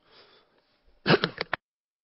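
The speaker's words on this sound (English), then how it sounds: "I had to cough there." A short burst of coughing, close and abrupt, follows a faint murmur and a brief silence.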